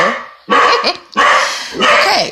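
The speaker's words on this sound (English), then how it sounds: "That is my dog contributing to" A dog barks three times up close, loud bursts spaced apart with a brief whimpering edge, while someone speaks a single short word.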